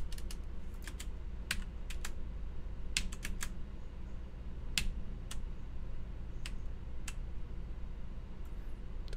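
Computer keyboard typing during a game jam coding session, sharp isolated key clicks in irregular clusters over a steady low hum of room or fan noise, close to the microphone, with no talk.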